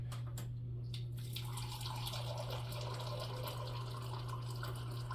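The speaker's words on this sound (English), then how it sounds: "Let's just put that cup of water in there." A cup of water pours steadily into a pot of vegetable soup with cabbage, celery and tomatoes, a continuous close splashing stream with a low hum beneath.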